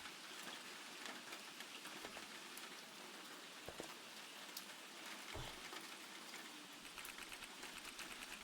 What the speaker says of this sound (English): It could be such a nice day if it wasn't for this stupid rain.